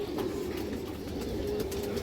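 A large female pigeon, likely a khaki bred for flying, cooing steadily and close at hand, a continuous low throaty murmur over a constant noisy background.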